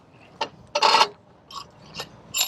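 A drill head being fitted onto a Vermeer QuickFire HDD connection, giving a few short, close metallic scrapes and clanks with gaps of quiet between them.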